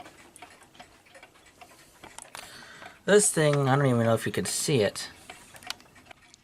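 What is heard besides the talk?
old clock ticking offbeat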